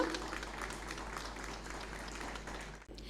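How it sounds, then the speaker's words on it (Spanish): Audience applause welcoming a pair of authors onto a stage at a talk on Elche mysteries, legends and traditions; steady dense clapping fills the room throughout, dropping briefly near the end. "ahora vamos a dar un aplauso"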